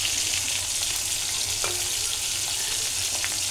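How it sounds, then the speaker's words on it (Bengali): Onions frying in the oil left from frying fish, a constant close crackling sizzle with faint clinks of stirring and no talk. "আমি পেঁয়াজগুলো ভেজে নিচ্ছি।"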